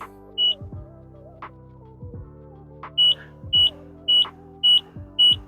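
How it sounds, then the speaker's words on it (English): A series of short, sharp electronic beeps at a steady pace, five in close succession near the end, over a faint low mechanical hum, from a Pride Go-Go Endurance AL+ mobility scooter's freewheel warning. "So it's beeping 5 times."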